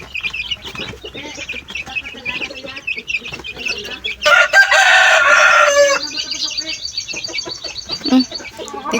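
Young pet chicks, recently hatched and now growing, chirp and cluck in a steady, busy chorus, with a louder burst of high peeping midway; the birds sound close and fill the whole stretch without any talking.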